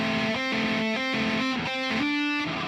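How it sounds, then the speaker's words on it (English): Two heavily distorted synth or guitar notes a third apart overlap in a music production session, a harsh, buzzing, clashing drone that pulses in a steady rhythm with no talking. "Remember the rule that the more distortion, the worse it sounds when the notes are closer."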